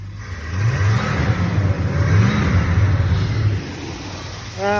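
A 1981 Chrysler Cordoba LS engine revs up through its exhaust, rising and falling in pitch for a few seconds before settling, then picking up again briefly.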